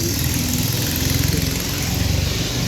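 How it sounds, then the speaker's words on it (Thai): A passenger boat's engine drones steadily with a chugging, mid-pitched hum as it passes, fairly close and continuous throughout. "เสียงเรืออยู่ด้านหลัง"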